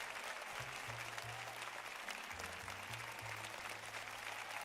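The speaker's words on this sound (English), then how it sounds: "Round of applause for participating" A steady round of applause from a crowd, dense and even clapping that holds at one level throughout and then cuts off abruptly.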